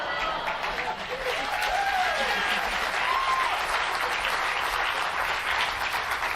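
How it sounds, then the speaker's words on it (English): Sustained applause from a television show's studio audience, dense and steady throughout with faint overlapping voices underneath. "Still clapping"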